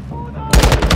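Automatic gunfire in the shooter Warzone 2.0, a loud burst of rapid shots that starts abruptly halfway through after a quiet stretch of low ambient game noise.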